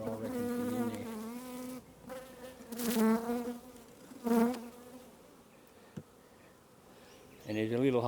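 Honeybees fanning their wings at a city hive, a loud close buzzing drone that swells and fades in bursts, with quieter gaps between.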